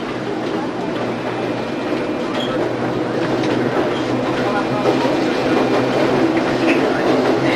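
A zoo tour train at the San Diego Zoo rolls steadily along its rails with a constant rumble and faint clacking, heard from on board, with voices talking underneath.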